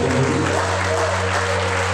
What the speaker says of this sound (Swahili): tumpatie Yesu makofi mazuri